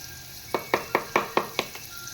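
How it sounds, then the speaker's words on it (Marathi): Onion frying in hot oil in a pan for Mandeli kadu, a Marathi fish curry, with six evenly spaced scraping stir strokes over a soft steady sizzle, close and moderately loud with no talking. "तेल गरम झालं की मग कांदा घालून कांदा घालून घेते मी."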